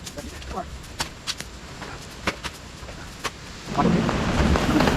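Rain falls steadily on an Adirondack shelter at an outdoor camp, a soft continuous patter broken by a few sharp drips or taps, growing heavier and louder toward the end.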